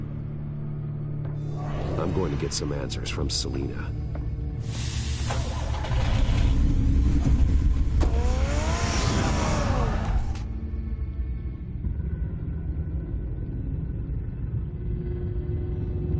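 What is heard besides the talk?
car starting and driving in Batman: The Telltale Series video game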